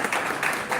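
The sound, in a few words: audience applause for a speaker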